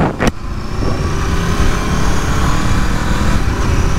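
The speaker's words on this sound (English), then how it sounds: "Wow, my first upshift." A 2022 Aprilia RSV4 motorcycle accelerates hard with a steady loud engine roar that rises as it shifts up, preceded by a brief sharp burst near the start; no one speaks.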